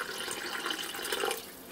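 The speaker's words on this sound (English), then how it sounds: "So make sure if you are gonna dump water" Warm water poured from a container into a pot of lentils, a steady splashing pour close by lasting under two seconds, with no talking.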